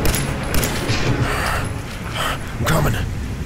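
Rapid bursts of gunfire crackle continuously in Fallout 4, with people talking over the shooting.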